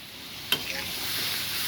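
Spice paste for a prawn, potato and pointed gourd curry hits hot oil with a sharp splash, then settles into a steady, even hiss of frying.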